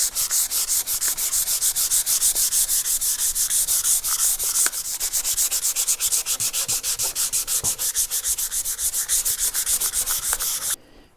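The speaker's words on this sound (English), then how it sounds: "This is 320 sandpaper, pretty fine" Fine 320 grit sandpaper rubbed briskly over a wood surface coated with lamp black, a steady loud rasping stroke rhythm that continues for several seconds before stopping abruptly.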